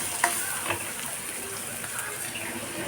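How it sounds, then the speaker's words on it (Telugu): Sweet corn and finely grated carrot frying in a pan: a steady, soft sizzle with occasional light clicks and stirring scrapes, close and continuous. "సో వాటిలో పచ్చిదనం పోయే వరకు కొంచెం వేయించి"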